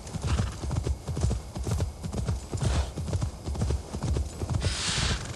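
Horse hooves galloping in Assassin's Creed Valhalla, a rapid steady clip-clop rhythm close up that continues throughout, with a brief rushing swell near the end.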